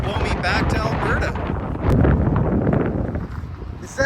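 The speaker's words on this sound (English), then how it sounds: "Man, it's windy here." Strong wind buffets the microphone with a low, rumbling roar, while someone talks over the gusts.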